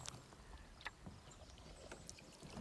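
Quiet paddle strokes and water lapping as a canoe moves along a river toward a bridge, with soft splashes and a faint, steady wash of water and no voices.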